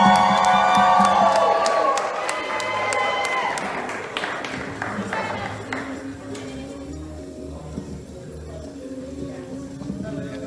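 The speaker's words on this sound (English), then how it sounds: "A big round of applause." An audience claps, cheers and whoops at an album release party as the artist is welcomed on stage. The noise is loud and dense at first, then fades over about ten seconds while some voices carry on in the crowd.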